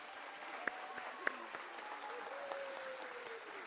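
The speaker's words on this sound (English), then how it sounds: "So if we can just give them a round of applause to thank them." Applause for student workers at a recognition ceremony, a thin, sparse clapping from a small group, faint and fairly distant, with a couple of sharper claps standing out.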